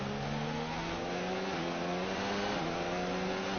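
A high-revving Formula 1 car engine in the video game F1 2019 drones steadily, its pitch sliding up and down through gear changes, with no voices.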